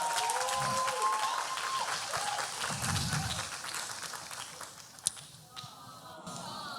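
Church congregation applauding at an evening service, a steady wash of clapping mixed with crowd noise and voices, holding fairly even before thinning slightly toward the end.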